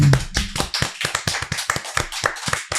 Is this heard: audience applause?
yes